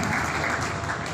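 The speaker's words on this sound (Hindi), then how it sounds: "खुदा के कलाम के लिए, खुदा के खादिम के लिए जोरदार ताली।" Loud, steady applause from a church gathering at a morning meeting, a thick continuous wash of many hands clapping at once with no talking.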